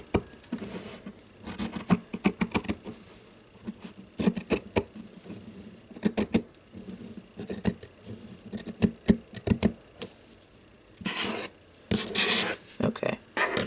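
Scissors or pinking shears trimming the sides of flannel fabric for a no-sew Christmas treat bag, heard as close, repeated snipping and rasping cuts in bursts with brief pauses, no talking.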